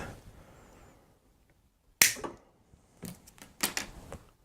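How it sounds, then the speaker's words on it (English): Cutters snip the excess ends off plastic zip ties on a homemade camera slider: one loud sharp click, then a quick cluster of smaller snapping clicks, close and otherwise quiet. "Now we're gonna cut the excess of zip tie."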